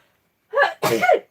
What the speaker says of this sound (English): that came at a really untimely time, didn't it, to sneeze